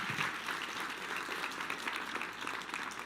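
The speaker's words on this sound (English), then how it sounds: "Everybody give them a round" Audience applause at a Medicare sales talk, a steady wash of clapping across the room from start to finish, with no voice heard over it.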